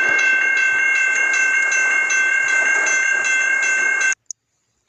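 A CSX freight train rolls past close by, a loud steady roar of wheels and rail noise with tonal squeal, then cuts off abruptly near the end.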